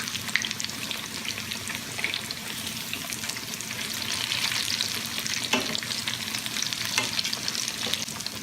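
Eggplant slices fry in a pan for baked eggplant parmesan, giving a steady, close sizzle and crackle with occasional sharper pops, no voices heard.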